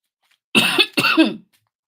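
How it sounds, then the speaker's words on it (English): A person gives two harsh, close coughs in quick succession, the second slightly longer, in an otherwise quiet room. "This cough is driving me bonkers."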